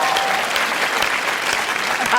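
Audience applause at a televised comedy roast, a dense, steady wash of many hands clapping that fills the whole moment without a break.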